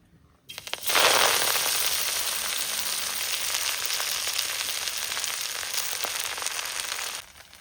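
Fresh susuni greens hit hot mustard oil in a wok, setting off a loud, steady sizzle that bursts in suddenly and crackles on for several seconds before cutting off.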